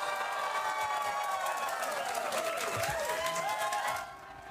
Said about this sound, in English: cheering crowds.